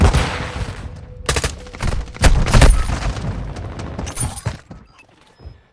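Grenade blast and bursts of gunfire in a shooter video game, loud, close, repeated volleys of shots with booming impacts, busy and dense, fading toward the end.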